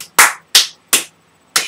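Four sharp, close hand claps in a loose, steady rhythm, the last coming after a slightly longer gap, each ringing briefly in a quiet room.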